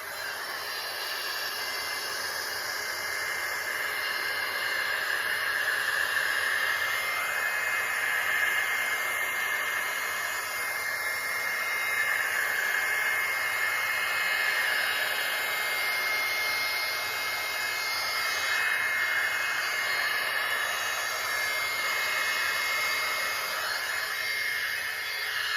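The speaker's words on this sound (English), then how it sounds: "I'm also going to use my heat tool a little bit to move it." A heat tool blows a steady, loud rushing hiss of hot air across alcohol ink, continuous and close with slight fluctuations in pitch, no talking.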